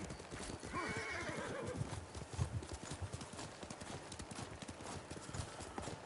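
In the video game Ghost of Tsushima, hooves clip-clop steadily as a horse moves along, and a horse whinnies loudly near the start, all fairly close.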